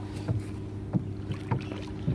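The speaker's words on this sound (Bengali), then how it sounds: "অনেক দিন পরে এরকম সবাই মিলে নৌকায় উঠলাম" A rowing boat carrying a group moves across water on an afternoon outing, with soft oar strokes and splashes coming at a steady rhythm about every half second over a constant low hum.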